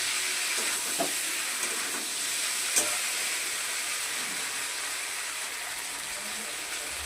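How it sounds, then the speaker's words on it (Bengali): Water poured into a pan of frying potato and pointed gourd in poppy seed paste gives a steady, close hiss of steam and sizzle, with a few faint clicks and no speech. "এবার আমি এর মধ্যে জল দিয়ে দিচ্ছি, অল্প জল দেবো"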